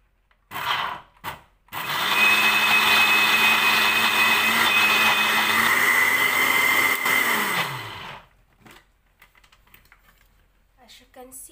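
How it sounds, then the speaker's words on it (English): A blender grinds ingredients for homemade hummus, a loud steady whirring motor that runs about six seconds, ramps down and stops, with brief bumps before it and quiet after. "and now we have to grind."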